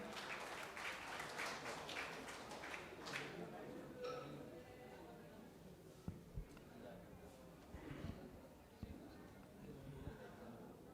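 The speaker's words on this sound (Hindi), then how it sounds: "तालियों से इस्तकबाल करें" Audience applause at a mushaira poetry gathering, a soft, distant patter of clapping that swells briefly and then thins into scattered claps and low murmurs.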